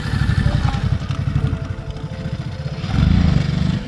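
A motorcycle is ridden on a trail trip in Morocco, its engine a loud, close, throbbing pulse that holds steady and then swells as the throttle opens.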